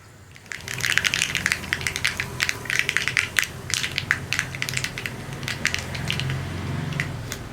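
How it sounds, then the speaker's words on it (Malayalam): Dense crackling and popping of mustard seeds spluttering in hot oil, rapid irregular bursts close up, easing slightly toward the end. "കടുകൊന്ന് പൊട്ടി തുടങ്ങട്ടെ"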